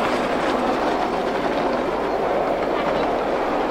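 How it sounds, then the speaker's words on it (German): A steam locomotive, the Virgin, pulls a fully loaded passenger train of children, giving a continuous loud rolling rumble with rhythmic wheel clatter up close. "die Virgin zieht einen vollbesetzten Zug mit freudigen Kindern,"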